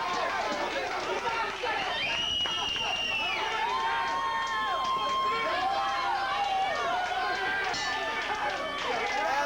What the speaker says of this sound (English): The crowd loving this one.